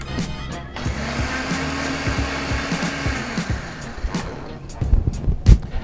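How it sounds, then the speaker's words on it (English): A blender whirs loudly and steadily while crushing ice for a Fog Cutter cocktail, with rattling and clattering mixed in; a few sharp knocks near the end. "Toss it on your blender and you're gonna be all set."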